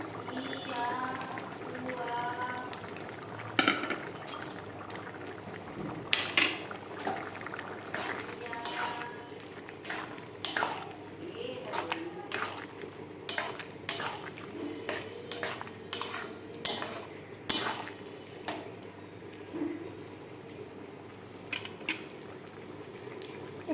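Egg bhujia being added to a pan for an egg and dumur (fig) curry, with metal utensil clinks and scrapes of stirring against the pan over a low simmering bubble, in a close series of sharp taps.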